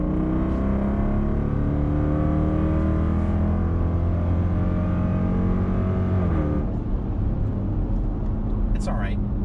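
A 2020 Dodge Durango R/T SUV accelerates in regular mode, its steady engine drone rising in pitch for several seconds before easing off, heard from inside the cabin with a voice talking over it.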